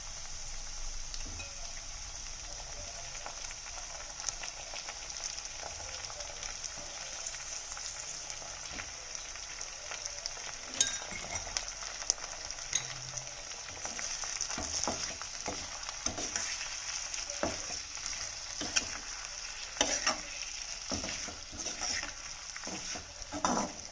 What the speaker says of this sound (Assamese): এতিয়া মই মেইন ইনগ্ৰেডিয়েন্টখিনি দি দিম মিছা মাছখিনি দি দিম প্ৰন অৰ শ্ৰিমখিনি দি দিম